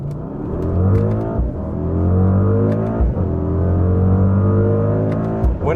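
A Mercedes-AMG GLE 63 S Coupe engine revs hard under acceleration, its note climbing steadily through the gears with brief dips at each shift, loud and close with no talking.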